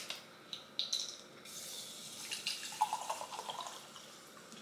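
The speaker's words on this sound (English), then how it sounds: "Just a little bit of water right there." A little water is poured into a cup for overnight oats, giving soft splashes and a trickle with scattered drips, close and fairly quiet.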